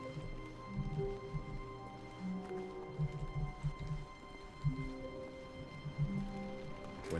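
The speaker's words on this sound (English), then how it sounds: "Is that rain?" Rain in the video game The Stanley Parable, heard as a faint, soft patter behind low tonal game music and scattered light taps, quiet and steady throughout.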